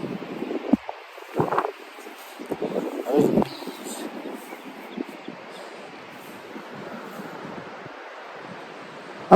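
Wind gusting outdoors beside beehives, a rough rushing roar across the whole clip with stronger bursts and rustling early on, then a steadier, fainter blow.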